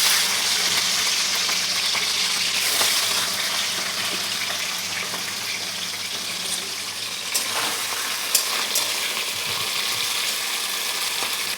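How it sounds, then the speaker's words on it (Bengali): Prawns coated in salt and turmeric lightly frying in oil, a continuous hiss and sizzle with a few small clinks and pan movements. "এখানে চিংড়ি মাছটা আমি নুন হলুদ দিয়ে মাখিয়ে রেখেছিলাম, এটা আমি হালকা ভেজে নেব।"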